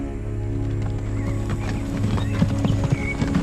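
Horses travelling at speed along a road, hooves clip-clopping in a steady rhythm with a neigh rising above them, close and fairly loud, with no one talking.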